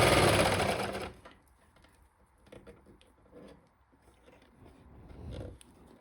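A sewing machine stitches an elastic waistband onto fabric for boxer shorts, starting with a loud close run of rapid stitching, then stopping, followed by quieter fabric handling and short bursts of movement.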